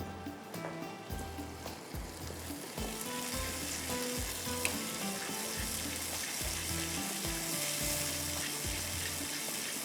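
Tomatoes added to karahi gosht frying in a pan, a loud dense sizzle that holds steady throughout, close up, with a low rhythmic background pulse and no talking.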